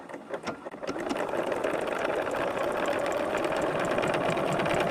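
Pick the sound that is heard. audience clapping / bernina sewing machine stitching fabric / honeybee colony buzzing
bernina sewing machine stitching fabric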